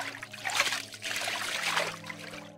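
Water trickles and burbles in a brook, a close, continuous splashy babble that swells and dips over a few seconds with no voices.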